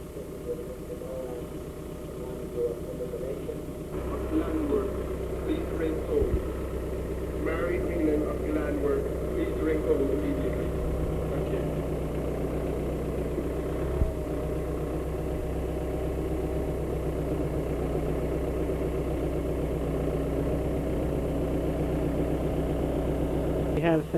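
A tractor engine idles steadily at a Clondrohid field day in 1987 as it is hitched to a New Holland silage harvester, a low constant rumble running under continuous talk throughout.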